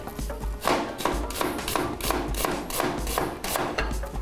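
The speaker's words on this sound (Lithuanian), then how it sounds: "Svogūnus smulkinsim pusžiedžiai." A knife cuts onions into half rings on a board, a quick, regular series of close, sharp chops and taps with light thuds between them.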